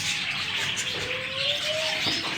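Cockatiels, adults and a young bird about a month and a half old, give soft chirps and a drawn-out whistled call in the middle, heard close over a constant background hiss with no talking.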